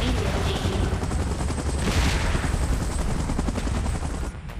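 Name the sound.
helicopter in the video game PUBG Mobile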